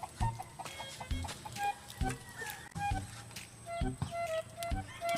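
Chickens cluck in short, uneven bursts near a seaside cooking spot, with scattered knocks and clatter from the cooking area around them.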